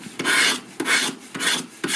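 A smartphone's real metal frame is scraped in four even rasping strokes, each a loud, close, gritty rub with short pauses between.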